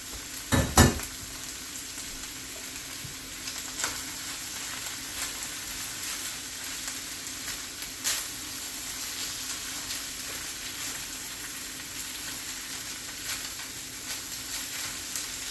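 Vegetables and rice sizzle steadily in a Babish wok during stir-frying, a constant hiss broken by a few sharp clanks of utensil on metal near the start and occasional scrapes, close and fairly loud.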